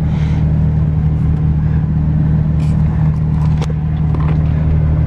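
A pickup truck engine drones loudly and steadily while driving off-road on rough ground, a constant close rumble with occasional knocks and rattles, and no clear talk.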